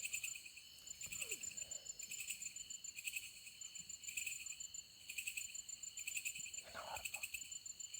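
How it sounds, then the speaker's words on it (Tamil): Crickets and other insects chirp steadily in forest trees at night, a dense layered drone with pulsing trills; a faint frog-like call or two surfaces briefly in the background. "ஏதோ அந்த மரத்தில் இருக்க பூச்சிகளாக இருக்குங்க."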